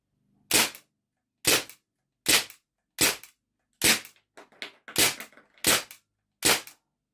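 A Legends MP German 4.5 mm BB pistol fires nine sharp, loud cracks at an even pace, roughly one every second, with faint rattling between a couple of the shots.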